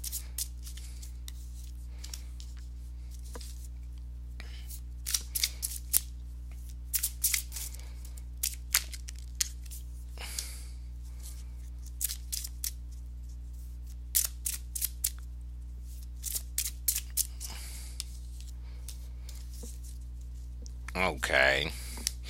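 Tarot cards handled and shuffled, with scattered soft papery flicks and slides spread across the stretch and a denser riffle near the end, heard under a steady low hum.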